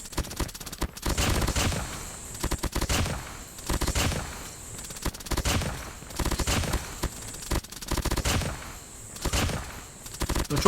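Rapid SMG gunfire in COD Mobile rattles out in several fast, loud bursts separated by short pauses, each a dense stream of sharp shots.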